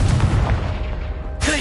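Confringo explosion spell cast in Hogwarts Legacy, a loud booming blast with a rolling low rumble that decays, followed by a bright crackling burst at the end.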